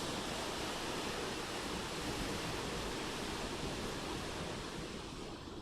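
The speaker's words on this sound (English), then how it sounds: "Listen to the sound of the breath, the sound of the waves." Steady ocean surf rolls without a break, a dense, even wash of breaking waves heard close and continuous, with no voices over it.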